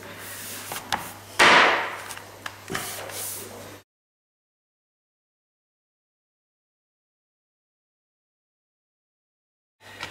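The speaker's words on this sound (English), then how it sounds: "Using a rubber mallet and a tapping block, just going to tighten up that joint." Rubber mallet striking a tapping block against click-lock floorboards, several sharp wooden knocks in quick succession up close, followed by a long silence and a final faint knock.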